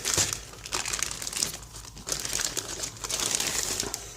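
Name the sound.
plastic bag of model kit sprues being handled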